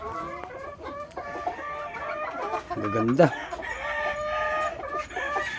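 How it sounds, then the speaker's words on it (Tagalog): Fighting roosters bred for cockfighting, including a white Kelso, cluck and crow repeatedly at a farm in Tanauan City, with one loud drawn-out crow standing out among overlapping calls and brief speech nearby. "Tingnan nyo naman yung mga manok nila rito guys oh"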